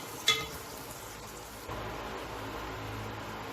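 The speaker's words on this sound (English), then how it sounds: "Now our oil is hot. We'll add the chopped onions. And just saute it till it is nice translucent." Chopped onions drop into hot oil with a sharp splash, then a soft, steady sizzle builds as they saute for a Malvani kingfish curry, quiet and close with no talk.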